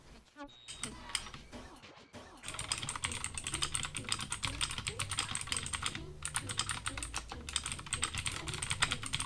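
A computer keyboard is typed on rapidly in a dense, continuous clatter of keystrokes after a few scattered taps at the start, close and fairly loud, with no voices.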